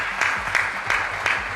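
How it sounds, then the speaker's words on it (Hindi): Audience applause welcoming a Congress party guest at a televised public debate, with a steady wash of clapping and periodic louder bursts recurring about every third of a second, fairly close and without talk. "जोरदार ताली के साथ इनका स्वागत करेगा"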